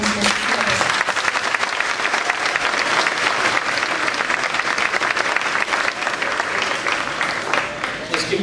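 An audience at the 2015 Kensington Elementary D.A.R.E. graduation claps loudly and steadily for several seconds, a dense crowd applause with a few cheers mixed in.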